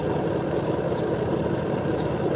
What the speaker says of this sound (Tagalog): Maandar na po yung ating uh, dryer.